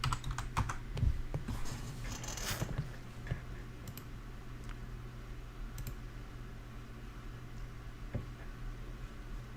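Quiet clicking of computer keyboard keys in bursts, a few scattered taps and short runs of typing close by in a still room, with no talk.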